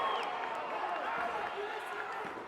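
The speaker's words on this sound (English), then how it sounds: "Crowd going wild." Crowd at a fight night in Miami, a steady roar of cheering and shouting from a packed arena, with a commentator talking over it.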